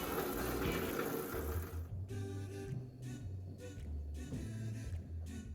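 Tap water runs into a kitchen sink during washing up, a steady close rush with soft clinks and splashes as hands move under the stream.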